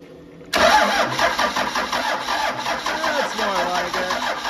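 A 12-valve Cummins diesel engine cranks and catches after a brief quiet start, then settles into a loud, steady idle with a rhythmic knocking pulse.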